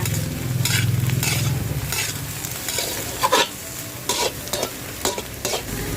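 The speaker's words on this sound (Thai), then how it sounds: "แล้วก็ทำการผัดให้กระหล่ำปีกับคะน้านะคะ" Cabbage and Chinese kale being stir-fried in a hot pan, sizzling steadily with scraping spatula strokes and a few sharper clacks of the utensil against the pan.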